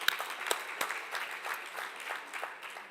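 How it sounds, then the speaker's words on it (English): An audience at a science centre anniversary celebration applauds, a faint, steady patter of many hands clapping at a distance, with a few sharper claps standing out. "Let's give a round of applause."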